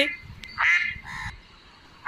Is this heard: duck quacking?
yes